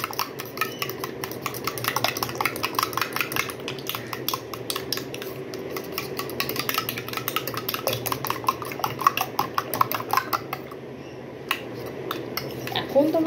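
Egg-style batter with a pinch of salt is whisked in a bowl, producing rapid, rhythmic clinking and scraping of utensil against the bowl that continues steadily, with a voice speaking quietly underneath.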